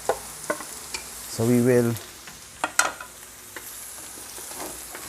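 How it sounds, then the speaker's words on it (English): Onions sauté gently in olive oil for a homemade tomato sauce, a soft steady sizzle broken by spatula scrapes, with brief talk and a short tonal hum over it. "be sauteing the onions in our olive oil"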